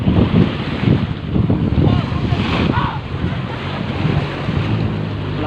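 Wind buffets the microphone over a steady wash of sea and engine rumble, loud and continuous, as from aboard a boat on open water.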